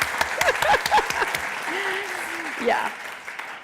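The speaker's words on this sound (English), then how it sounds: "And let's give them a round of applause." Audience applause for colleagues at a retirement system event, a steady wash of clapping from a crowd with a brief spoken word and voices over it.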